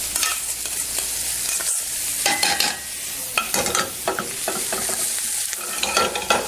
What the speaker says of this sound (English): finally what we will do is add the caramelized onions